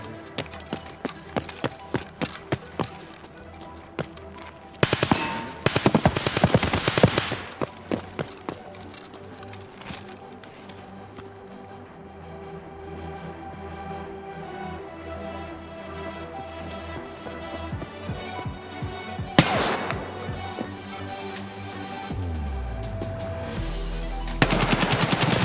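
Gunfire in the video game Escape from Tarkov: loud automatic bursts and single shots crackle early, then a stretch of sporadic firing and game noise follows, with more sharp shots near the end.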